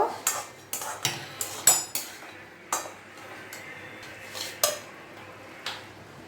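A cooking pot of lau ghonto, bottle gourd cooked with prawns, is lifted off the stove with a run of sharp, close metallic clinks and clatters, irregularly spaced and dying away between knocks.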